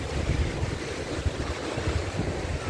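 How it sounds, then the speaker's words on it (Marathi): Sea waves breaking on the beach at Dapoli, heard as a continuous loud wash of surf mixed with heavy wind buffeting the microphone, with no voices. "शूट करतायत लाटा समुद्रांच्या आपल्या ह्या व्हिडिओसाठी"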